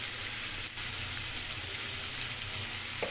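Diced potatoes frying with salt and turmeric in a pan for a cabbage and rohu fish head dish, a continuous close hiss and crackle with small sputters, steady and unbroken, no voices.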